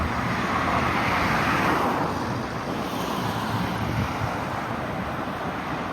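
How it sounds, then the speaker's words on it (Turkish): Cars stream past beneath a highway overpass, a continuous broadband rush of traffic noise that swells and eases slightly, heard from above with wind across the microphone and no voices. "bir üst geçitten bakalım gelen arabalara."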